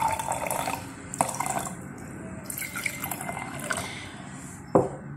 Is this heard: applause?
no